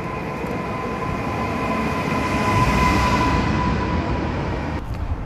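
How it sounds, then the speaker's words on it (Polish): A moving passenger train bound for Kraków, heard from inside a carriage, gives a continuous loud rumble with a faint whine riding over it, steady throughout. "you saw the train already?"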